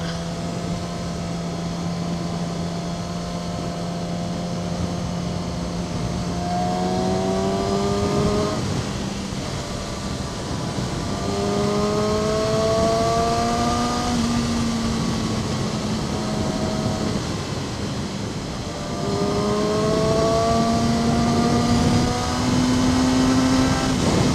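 A 2012 Yamaha R6 50th Anniversary motorcycle being ridden, its engine droning and rising in pitch through repeated gear changes, with steady wind rush throughout.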